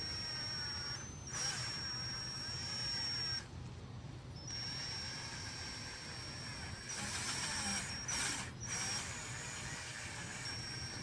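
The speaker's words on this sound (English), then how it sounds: "This drill's real fast, look." A fast power drill with a buffing pad works over a scratch on a car's paint, a steady whining drone holding throughout with brief surges in pitch and level, close by and without talk.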